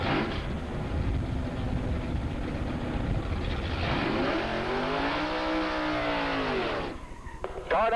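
A drag racing car at Valley International Dragway in 1985 roars off the line and accelerates hard down the strip, its engine note rising in a long upward sweep before cutting off.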